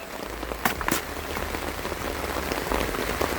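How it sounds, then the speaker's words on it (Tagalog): Heavy storm rain on a Mindanao farm, a dense steady hiss of drops pelting surfaces with a few sharper knocks early on, close and continuous. "malakas ang ulan"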